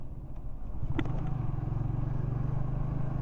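Steady low engine drone of a motorcycle on a ride, running continuously and close, with a brief sharp knock early on and no talk.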